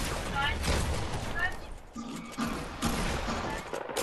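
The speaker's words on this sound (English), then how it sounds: "I landed most of my shots." Gunfire bursts from Fortnite Battle Royale weapons crack out in quick clusters alongside mechanical clicks, with a voice talking over the shots.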